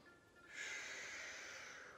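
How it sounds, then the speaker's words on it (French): A person breathes out steadily during a stretching exercise, one soft, airy exhalation of about a second and a half, close and faint, with no talking. "J'inspire, j'expire."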